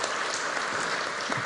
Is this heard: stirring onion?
no